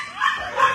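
Cookie, a bouncy pet dog, gives a quick bark or two, close and fairly loud in a short burst.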